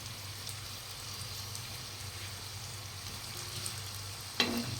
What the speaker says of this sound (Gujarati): હવે આપણા રોલ જો સરસ શેકાઈ ગયા અંદર તેલમાં.